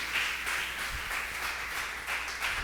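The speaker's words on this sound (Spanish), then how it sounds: "Vamos a darle fuerte aplauso al Señor" A church congregation claps for the Lord in rhythmic, steady applause, many hands beating together in a moderately distant, even pulse.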